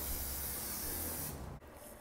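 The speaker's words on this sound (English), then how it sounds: "go ahead and spray them with photo mount all the way along" A steady hiss of photo mount adhesive aerosol spray goes on for over a second, close by, then cuts off and briefly resumes.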